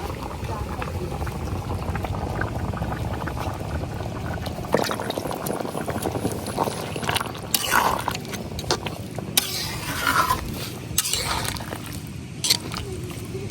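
Catla fish head curry with potatoes simmering in a pot on the stove: a steady, close bubbling and gurgling that runs throughout, with occasional splashes and a person talking over it.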